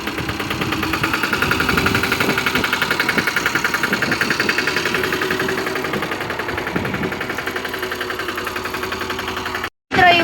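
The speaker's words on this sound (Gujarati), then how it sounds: "જોઈ લો તમે આ ટ્રેક્ટર છે મિની" A mini tractor engine runs steadily during chickpea sowing on a wet farm field, a loud close rhythmic chugging that holds for about ten seconds before a brief cutout.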